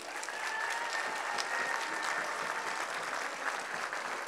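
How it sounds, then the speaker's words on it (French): Audience applause at the opening ceremony of WAC 2019, a steady wash of many hands clapping, fairly quiet and distant, continuous throughout with no speech. "Et je vous demande de les applaudir."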